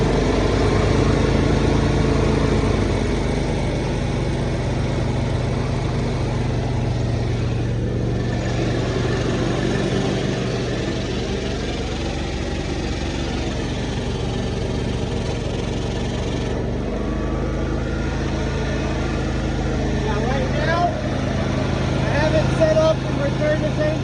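Water jetter engine running steadily in tank mode while it cycles water, a continuous mid-pitched drone with a slight rev toward the end, and someone speaking over it throughout.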